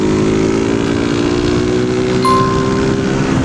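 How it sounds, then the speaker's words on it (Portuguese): A motorcycle engine with valve noise drones steadily and loudly throughout, a constant rumbling hum with no pauses. "minha moto tava batendo som de válvula"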